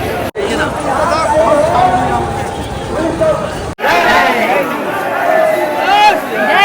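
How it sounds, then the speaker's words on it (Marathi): A large crowd of devotees waits for darshan at a Shri Ram temple, filling the space with a steady, loud hubbub of overlapping voices and chatter, close and continuous, with a brief cut partway through. "गर्दी तर भरपूर आहे."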